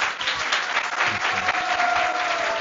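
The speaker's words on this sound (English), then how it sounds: "Let's give a big round of applause." Crowd of devotees at an evening pilgrimage program gives a round of applause, dense steady clapping from many hands throughout, with no voices over it.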